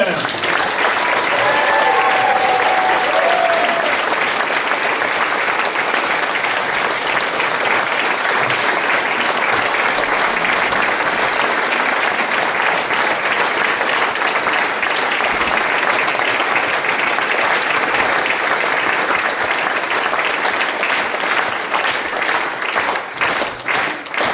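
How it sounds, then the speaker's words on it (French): A large concert audience gives a long, sustained thunder of applause for conductor Thierry Deleruyelle, dense even clapping that holds steady for over twenty seconds with no talk over it. "un tonnerre d'applaudissements pour Monsieur Thierry Deloriel."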